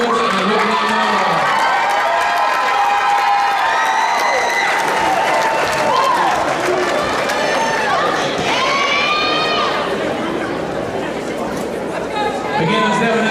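A gym crowd at a girls' varsity basketball award ceremony claps and cheers for nominees, sustained loud applause mixed with chatter and shouts from many people nearby.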